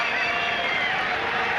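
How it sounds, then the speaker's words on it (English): A cricket crowd at a South Africa versus England test match in 2004 gives a steady, broad roar of noise throughout, with a commentator speaking over it. "The great reaction from the crowd here."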